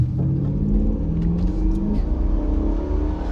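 A 1996 Impala SS's 5.7-litre, 260-horsepower V8 roars loudly and steadily at full throttle, a deep rumbling rev building as it accelerates close by.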